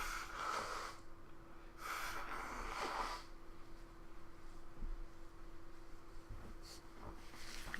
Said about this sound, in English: I gotta blow my nose real quick.